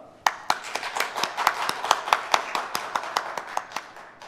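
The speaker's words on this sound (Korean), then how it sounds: "잘했다고 격려의 박수 부탁드립니다" Encouraging applause for a church praise team during an online Sunday worship service: a run of distinct, fairly even claps, close and crisp, repeating steadily with no talk over them.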